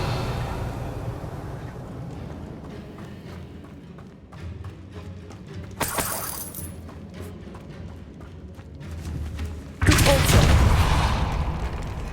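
Bombarda and Confringo spells cast in Hogwarts Legacy erupt as booming blasts over rumbling game ambience, with a sharp crackling burst midway and a louder, sustained explosion near the end.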